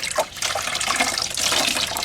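Water sloshes and splashes in a bucket used to clean a masonry patch, a continuous close, bright watery rush with no talking.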